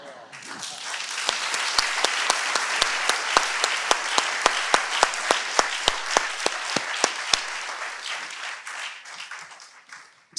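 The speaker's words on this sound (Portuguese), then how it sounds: "Espero que o Isaac tenha ouvido todas essas palmas." An audience claps at a talk on social entrepreneurship, steady sustained applause with sharp individual claps standing out, swelling and then tapering off toward the end, heard at moderate distance.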